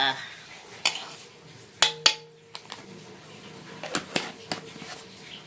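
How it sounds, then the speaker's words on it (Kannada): Ginger garlic paste is spooned into a pan while making mushroom kebab in a home kitchen, giving scattered metallic clinks and scrapes of a spoon against cookware, moderately close, with quiet rustling between the knocks. "ಶುಂಠಿ ಬೆಳ್ಳುಳ್ಳಿ ಪೇಸ್ಟ್ ಸ್ವಲ್ಪ ಹಾಕ್ಕೊತಾ ಇದ್ದೀನಿ"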